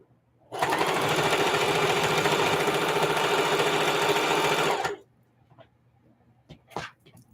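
A home sewing machine stitches fabric for a quilting project, its feed dog drawing the cloth through in one loud, steady run of about four seconds before it stops, followed by a few faint clicks and a short bark.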